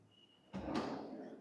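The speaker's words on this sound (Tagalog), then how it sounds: "Cutlery drawer." A cutlery drawer in a modern two-storey house's kitchen slides open with one quick rumbling whoosh that ends in a soft clunk, heard close and alone after a quiet moment.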